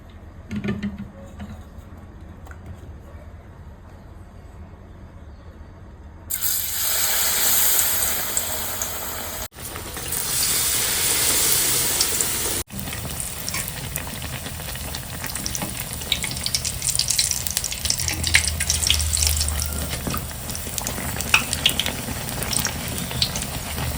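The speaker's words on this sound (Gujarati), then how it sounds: "હવે આપણે તેને લિક્વિડમાં બોરીને તળી લેશું" Oil sizzles and crackles loudly as batter-dipped bread pakoras deep-fry, a dense steady hiss that swells when food goes in, with occasional stirring.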